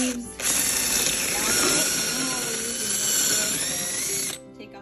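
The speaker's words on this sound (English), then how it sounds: "Take out the core. You can use a drill" A power drill bores into the core of a cabbage head being prepared for sauerkraut, running in one loud continuous burst of about four seconds with a slight wavering pitch, then cutting off.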